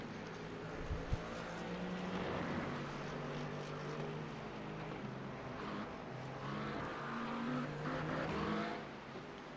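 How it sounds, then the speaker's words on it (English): An Acura race car engine in a Le Mans video game race drones steadily, then lifts off and cuts power on corner exit, its note fluctuating and dipping before surging again, moderately faint with no talk. "You can hear Nim, he's kind of cutting power on corner exit just because of how slow the Acura is exiting."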